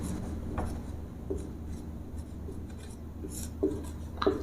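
Pen writing by hand, apparently on a board or paper during a lesson, with faint scratchy strokes and a couple of sharper taps near the end, quiet and close with no talking.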